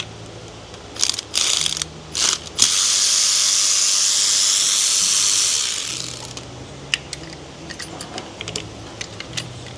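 A ratchet works loose a hidden fastener during a body-off teardown of a Duramax LBZ 6.6 diesel truck: a few quick ratcheting clicks, then a sustained, rapid buzzing ratchet run for about three seconds, followed by scattered light metal clicks.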